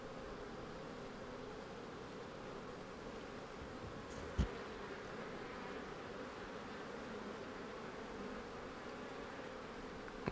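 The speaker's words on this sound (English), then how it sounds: "I just smoked these bees and they didn't roar at me" Honeybees in a hive just calmed with a beekeeper's smoker hum in a soft, steady buzz, quiet and even, with one brief knock partway through.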